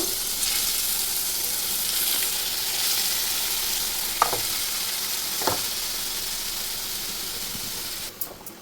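Grated ash gourd frying in a pan for sweet ash gourd halwa: a loud, even sizzle and hiss throughout, with a couple of soft knocks midway and a brief clatter near the end, no speech.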